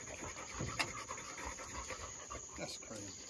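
Coon hound panting after being picked up from a hunt, quick rhythmic breaths close by and fairly faint, with people talking around it.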